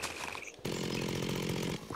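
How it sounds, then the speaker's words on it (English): A chainsaw from the Minecraft Tekkit modpack revs up loudly after a brief lead-in and buzzes steadily before cutting off, close and alone. "The chainsaw is awesome."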